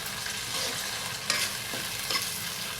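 Close, steady sizzling of a tempering of dried red chillies, garlic, chana dal, onion, green chillies and curry leaves frying in a pan, with faint stirring knocks.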